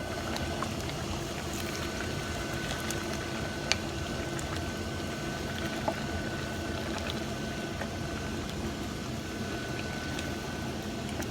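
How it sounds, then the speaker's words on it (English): Water bubbles and churns at a rolling boil in a pot, a steady close roar with a few faint clinks. "Just boiling some water."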